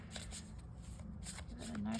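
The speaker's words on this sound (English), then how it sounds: "Give it a nice shuffle." A deck of cards is shuffled up close, with soft riffling bursts of papery flicks repeating quickly, fairly quiet, while a voice speaks faintly underneath.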